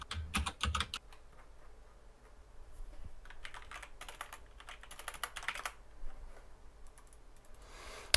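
Fingers type on a computer keyboard in bursts of rapid clicking keystrokes, close and fairly quiet, with brief pauses between flurries and no talking.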